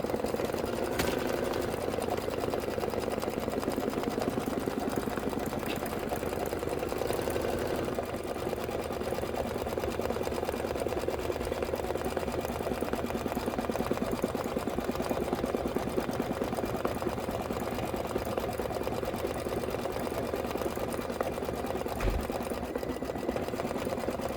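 Embroidery machine stitching a decorative design onto a Kimberbell reindeer tote bag, a steady, rapid mechanical chatter and hum running unbroken throughout, close and even in level, with one sharp knock near the end.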